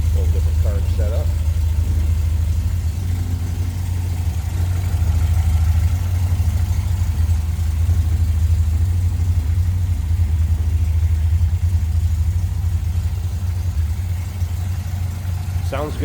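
A 1972 MG MGB convertible's 1.8-liter inline four-cylinder engine, fitted with a Pierce intake manifold and a different carburetor setup, idles steadily and close for the whole stretch with a loud, even low rumble.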